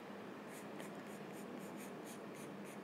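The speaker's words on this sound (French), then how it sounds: "je tiens mon crayon à plat et je colorie un petit peu dans tous les sens" A pencil held flat and scribbled back and forth across paper while shading hair in a drawing, close, soft rhythmic scratching strokes repeating about every third of a second.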